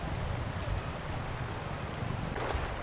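High river water rushes steadily at a crossing near Tanay, a broad, continuous wash with no voices.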